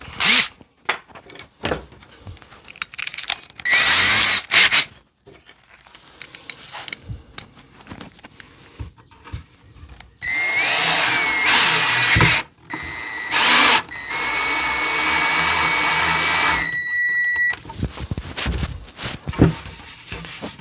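A power drill countersinks screw holes in a wooden shelf board, with several loud whining bursts of varying length, close by, mixed with handling clatter and pauses between runs.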